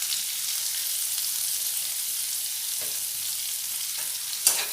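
Chopped onions and split green chilies are stir-fried in a pan, giving a soft steady hiss with a few faint scraping strokes and a brief clink near the end, with no voices.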